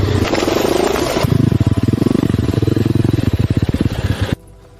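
A dirt bike engine rattles and pulses loudly while riding along rough ground, a choppy throbbing roar that cuts off abruptly near the end.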